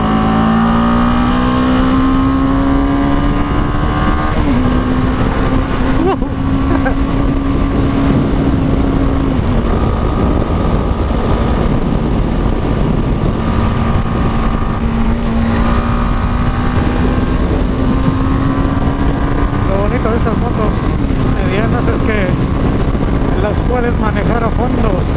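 A BMW G310GS motorcycle engine pulls hard under riding, its pitch climbing, dropping at gear changes and climbing again, loud and close with wind rush throughout.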